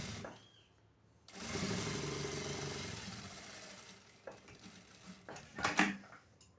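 A sewing machine stitches the corners of a cotton baby bath towel, a steady motor whir running for a few seconds after a quiet start, then stopping, followed by a few soft clicks and handling knocks.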